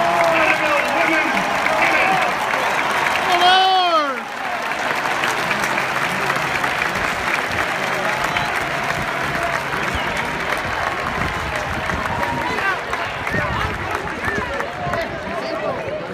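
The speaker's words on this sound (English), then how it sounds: "let's have a big round of applause for the 2015 NCAA National Champions, Vanderbilt Women's" A crowd gives a big round of applause for the 2015 NCAA national champion Vanderbilt women's tennis team, loud sustained clapping that briefly dips, then carries on steadily while a voice speaks over it.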